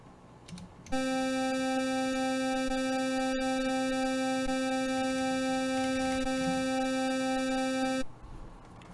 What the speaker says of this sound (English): the very first thing we're going to do is play the superchip synthesizer